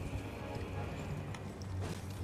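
Horse galloping in Elden Ring, with a steady, busy run of low hoofbeat thuds carrying under constant game noise across a short stretch.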